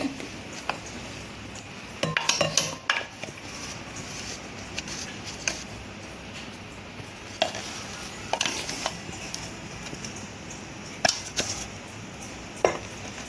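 A spoon scrapes and clinks against a bowl in irregular bursts while grated coconut filling is stirred, quiet and close, with soft kitchen background noise.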